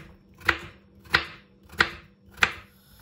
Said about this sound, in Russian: Нарежу я ее кубиками, потому что хочу, чтобы кусочки были небольшие и со всех сторон прожаренные.